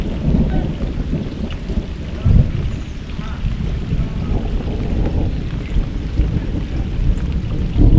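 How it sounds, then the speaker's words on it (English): Steady heavy rain pours over a lake in a thunderstorm, with low rumbling thunder swelling beneath a constant wash of water, including a louder surge partway through; out on the water during a fishing trip, no talk. "I am getting in the storms, thunder and lightning, and all kinds of stuff I'd rather not be out in."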